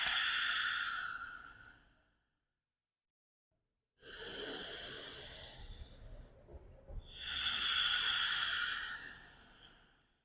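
During a power yoga session, deep breaths are drawn in and let out: a long, close, airy exhale fades into about two seconds of silence, then a slow inhale swells into another forceful, hissing exhale, with no talking.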